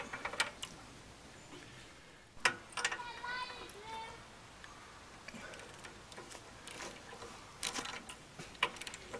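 Ratchet clicking as a spark plug is tightened on a tiller, giving a series of light mechanical ticks at close range with scattered sharper clacks, partly mixed with speech.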